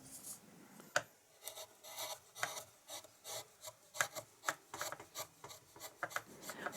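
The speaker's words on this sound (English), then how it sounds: "here I am carving the underside of the goldfinch wing by carving" A carving knife slices diagonally across the grain on the underside of a carved wooden goldfinch wing, giving a string of short, quiet scraping cuts in an uneven rhythm, close by with no talking.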